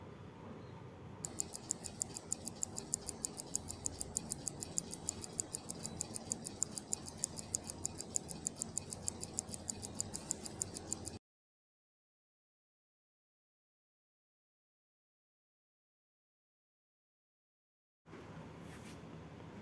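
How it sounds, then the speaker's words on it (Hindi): An HMT Sona hand-wound mechanical wristwatch ticks in a fast, even, faint rhythm close to the microphone, stops into several seconds of silence, then resumes briefly. "ये हैंड वाइंड घड़ी है, मतलब चाबी वाली घड़ी है।"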